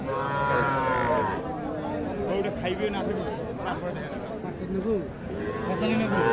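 Cattle lowing amid the busy hubbub of a crowded livestock market at Aftabganj Hat, with young bull and heifer calves, and someone talking over the steady background chatter.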